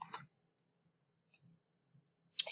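Computer mouse clicks: a couple of sharp, close clicks at the start, then a few fainter ticks and a final crisp click, separated by near-silence with a faint hum.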